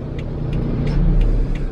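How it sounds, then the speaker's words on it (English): Big trucks rumble along a mountain road on Negros Island in the Philippines, a loud, close, steady low engine drone with faint hissy bursts recurring through the short stretch. "I got big old trucks coming behind me"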